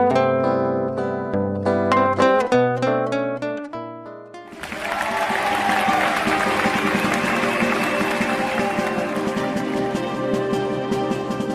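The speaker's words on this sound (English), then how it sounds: "please give a big round of applause for the 2019 Akademia Jazz Artist of the Year" Applause at an awards gala, steady clapping from an audience that follows a short passage of musical tones and continues through to the end.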